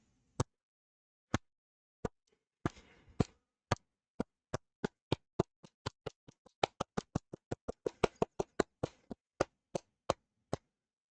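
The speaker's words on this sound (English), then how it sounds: "And a slow clap." A lone pair of hands gives a slow clap that speeds up, widely spaced sharp claps gradually closing into a quicker run, with a brief rustle early on.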